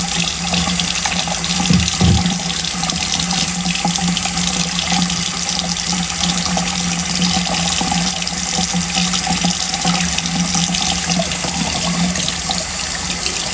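Tap water runs steadily into a sink while makeup brushes are washed, a loud, continuous rushing stream with no break throughout.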